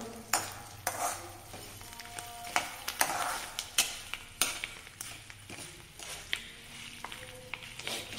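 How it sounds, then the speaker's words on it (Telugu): Mustard seeds popping and sizzling in hot oil while tempering for tamarind rice. Sharp, irregular pops and crackles sound up close over a soft, continuous frying hiss. "చిట్టపట్లు అంటే ఇప్పుడు ఆవాలు పేలుతాయి కదా"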